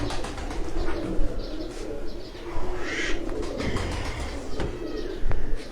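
Pigeons cooing on a rooftop in Jalalpur Bhattian, continuous overlapping coos with chirps and brief wing flutters, fairly loud and close against outdoor background noise.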